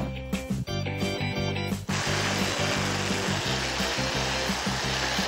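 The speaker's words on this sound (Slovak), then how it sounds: "Teraz priamočiarou pílou vyrežeme otvor." A battery-powered jigsaw saws an opening in a clamped wooden board, starting with short stuttering bursts then settling into a loud, continuous buzzing cut with rapid rhythmic chatter of the blade, close by and without talk.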